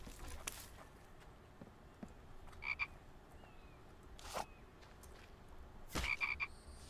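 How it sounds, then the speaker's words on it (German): Frog croaks in The Infected survival game, two short rattling bursts of repeated croaks, one near the middle and one near the end, over a faint ambient outdoor background. "Sitzt da drüben ein Frosch."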